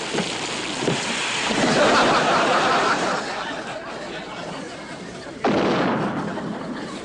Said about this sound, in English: Skip, that was a real Jap shell.